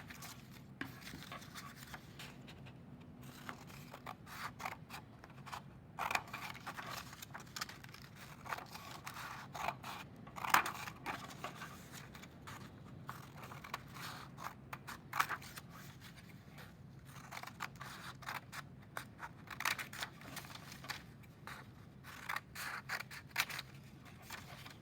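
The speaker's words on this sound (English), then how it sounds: "you want to use a pair of scissors, and you're going to cut starting on the fold" A pair of scissors cuts through folded paper, starting on the fold, in a quiet room, making soft, close, repeated snipping and crisp paper rustles in an uneven rhythm.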